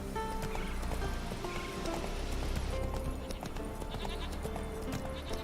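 Hooves of Roach, a horse in The Witcher 3: Wild Hunt, clip-clopping in a steady trot under dense game music and ambience, with faint animal bleats mixed in.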